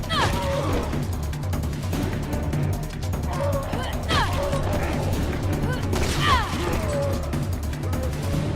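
Gunshots from the survival horror game Resident Evil Revelations 2 crack repeatedly amid loud game noise and mechanical clatter, while someone talks throughout.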